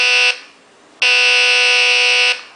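An electronic diesel locomotive horn sound module for HO scale 1:87 model trains sounds two steady, loud, harsh chord blasts, a short one followed after a pause by a longer one, with no talking.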